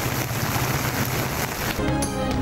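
Heavy rain pouring in Rawalpindi and Islamabad, a steady dense hiss of rainfall with low rumbling underneath, continuous and loud throughout.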